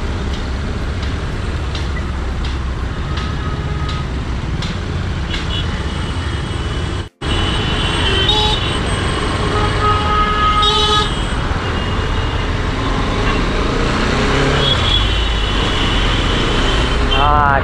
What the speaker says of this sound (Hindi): ट्रैफिक तो है इधर आज।